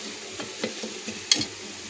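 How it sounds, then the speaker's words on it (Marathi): Onion and tomato masala frying in a pan while a spoon stirs it, a soft sizzle under a few scraping strokes and one sharp clink of the utensil against the pan. "फ्राय कांदा टमाटर सगळं एकजीव करून घेऊ."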